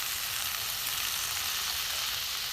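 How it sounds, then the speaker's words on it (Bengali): Green peas sizzle steadily in a hot pan as a little water is added, a close, continuous crackling hiss with no pauses. "এবার আমি অল্প করে একটু জল দেব।"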